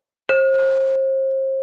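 A notification bell sound effect rings once with a bright metallic ding that sustains and slowly fades, loud and isolated.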